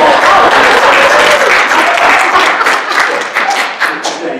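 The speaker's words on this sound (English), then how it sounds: "applause." Parents and community members at a school talk on vaping applaud the superintendent, giving loud, dense, close clapping that gradually thins into scattered claps, with voices mixed in.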